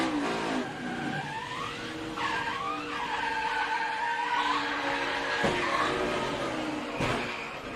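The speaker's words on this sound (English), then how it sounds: "You heard him playing with the throttle." NASCAR race car at Indianapolis, the driver working the throttle after a crash into the inside wall: a loud, steady engine drone with rising and falling revs and squealing tires, plus a couple of sharp knocks near the end.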